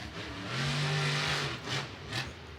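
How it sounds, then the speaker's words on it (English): Kristen Anderson's monster truck revs hard in Raymond James Stadium, Tampa, a loud, close engine roar swelling in one long pull, then two shorter throttle blips. "I love listening to the way Kristen drives this truck. It sounds just like her dad."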